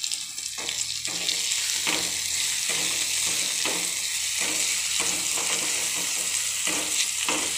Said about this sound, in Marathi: कांदा थोडासा ब्राऊन होईपर्यंत आपल्याला फ्राय करायचं असतं